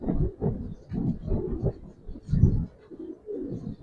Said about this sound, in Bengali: খুব সুন্দর একটা কবুতর মাশাল্লাহ।